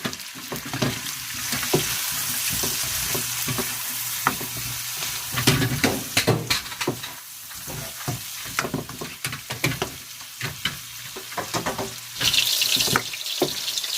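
A spoon stirs through a pot of shrimp boil with sausage, making repeated wet scraping and sloshing sounds over a constant bubbling, watery hiss, close and fairly loud with no talk.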